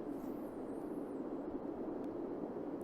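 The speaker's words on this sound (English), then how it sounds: "The wind background sounds like this." Steady broadband wind rushing on Cadillac Mountain with a constant hissing roar, no voices, and a faint high whistle drifting in at the start.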